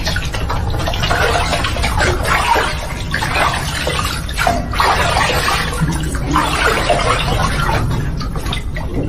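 Pumped tube-well water streams steadily from a bath shower, a continuous broad splashing rush that stays loud and close throughout, with no talk.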